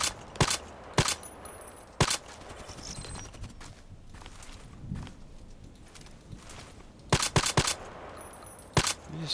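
An EBR marksman rifle fires in a video game as sharp single shots, grouped at the start and again near the end, with quieter clatter and movement between the groups and no talking.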